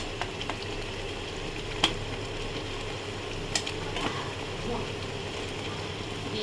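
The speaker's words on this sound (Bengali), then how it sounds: "এবার আমি বাটা মাছগুলো দিয়ে দেবো" Bata fish frying in spice paste in a pan, a steady close sizzle with occasional sharp pops and clinks of stirring throughout.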